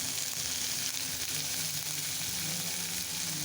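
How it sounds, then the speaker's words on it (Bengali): Chopped onion sizzles in a little oil in a pan with spices, a steady, dense frying hiss running loud and close for the whole stretch with no talking. "সামান্য একটু তেল দিয়ে পেঁয়াজ কুচি দিয়ে দিলাম।"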